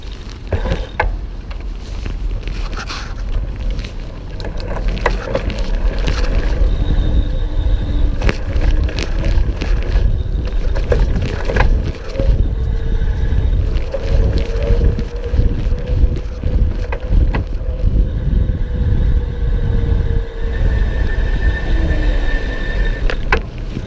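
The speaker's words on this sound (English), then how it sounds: "so you can hear that motor a little bit" Electric hub motor of a 2019 Rad Power Bikes RadCity Step-Thru e-bike while riding, a steady low whine with a faint rising and falling tone, largely masked by strong wind noise buffeting the microphone throughout.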